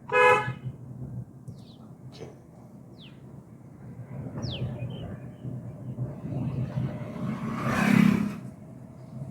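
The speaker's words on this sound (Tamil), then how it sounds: "ஒரு முறை ஹாரன் யூஸ் பண்ணிங்க" A car horn honks once, loud and close, near the end, over a steady engine rumble and road noise inside a moving car during a driving lesson.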